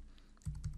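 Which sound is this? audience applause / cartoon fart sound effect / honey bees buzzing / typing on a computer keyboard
typing on a computer keyboard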